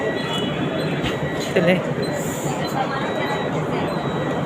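An AC local train running from Virar to Churchgate, starting off: a steady rumble of the carriage with a brief squeal, under constant chatter from passengers.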